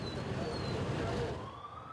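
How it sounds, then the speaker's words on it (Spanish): Police sirens in Guayaquil city centre near a park, faint wailing tones rising and falling over distant city traffic noise for a couple of seconds. "Escuchamos sirenas a esta hora, también motorizados que pues vigilan esta zona del parque"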